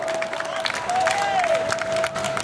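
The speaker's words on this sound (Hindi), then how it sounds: "ताली बजाइए अपने लिए" An audience at a Hindi poetry gathering (kavi sammelan) in Allapur, Prayagraj claps in a steady, dense wash under a sustained tone and some voices.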